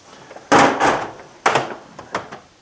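Metal tool box drawers in a small engine repair tool chest slide and bang shut, four close, sharp rattling strikes spaced over a couple of seconds, each fading quickly, with no voices.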